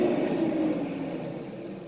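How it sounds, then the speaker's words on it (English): A large truck rumbles past with a loud, low, steady engine roar that slowly fades. "big noisy truck going by."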